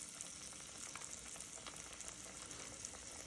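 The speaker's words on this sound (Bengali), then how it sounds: "ডুবো তেলে ভেজে নেবেন।" Chicken pakora deep-fries in hot oil, a continuous soft sizzle and crackle with small pops, heard up close but quietly, with no other sound.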